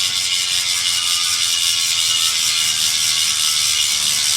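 A White Industries CLD hub freewheel on an Astral Wanderlust wheel buzzes as a fast, even ticking whir, close and steady throughout while the wheel spins freely.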